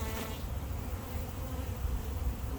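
Honey bees hum in a dense, steady buzz while a small colony is moved into a new hive. The swarm sounds close and constant, with no talking.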